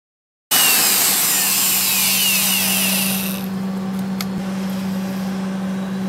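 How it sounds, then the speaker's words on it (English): Grinder working on a weld bead for a seat belt bracket on a Fairmont MT19A motorcar, a loud continuous harsh abrasive whine that eases to a lower hum partway through after a brief silent start. "We'll grind it out."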